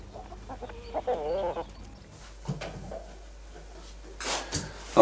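Chicken clucking and squawking near a farmyard, several short agitated calls in bursts with quieter gaps between, a louder flurry near the end.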